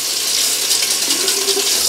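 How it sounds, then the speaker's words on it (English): Cold tap water runs steadily into a sink as an alum block is wetted after a safety-razor shave, a close, constant splashing flow with no voices. "Just wet that under the cold water"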